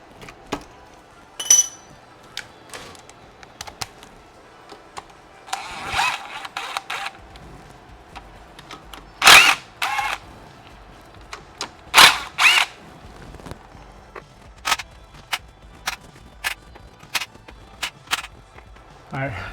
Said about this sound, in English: I'm gonna shoot it off with an impact driver just to make it quicker.